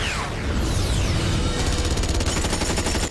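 Gunfire from an action scene in a Steven Seagal movie: a loud, dense, sustained barrage of shots that turns into rapid automatic bursts toward the end, with no pauses.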